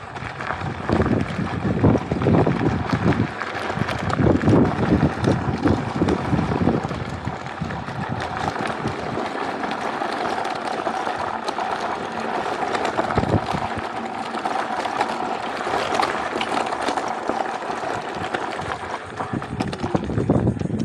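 iScooter iX5S electric scooter ridden off-road over gravel and dirt, giving continuous crunching tire rumble and rattling with heavy wind buffeting on the microphone and a faint motor hum throughout.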